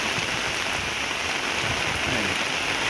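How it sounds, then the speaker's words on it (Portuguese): Heavy rain falls in Passira, Pernambuco, a dense and steady hiss of drops on surfaces with no pauses. "Uma chuva forte aí."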